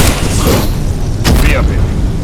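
A frag grenade explodes during Abiotic Factor gameplay, a sharp loud blast with a burst of broadband noise around the middle, set over a dense, busy game soundscape.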